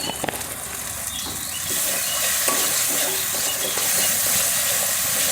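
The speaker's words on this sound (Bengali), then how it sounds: "মশলাটা কষানো হয়ে গেছে।" Spice paste for Bengali potol dorma is stirred and fried in a pan, with a continuous close sizzle and hiss and occasional scraping stir strokes throughout, no talking.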